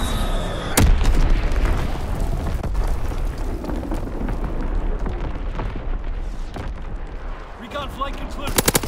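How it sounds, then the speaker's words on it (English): Incoming artillery fire in the WWII shooter Call of Duty WW2: a sharp blast opens a loud, continuous roar of rumbling explosions and crackling gunfire, with more sharp pops near the end. "Incoming enemy artillery."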